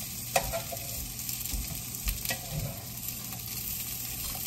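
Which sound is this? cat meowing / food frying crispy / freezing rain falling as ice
food frying crispy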